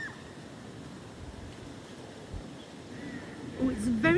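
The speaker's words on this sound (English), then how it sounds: "it's very cold and windy, Fred." Cold wind blows outdoors as a steady, faint rushing hiss with low buffeting rumble, near and continuous, and a voice talks briefly toward the end.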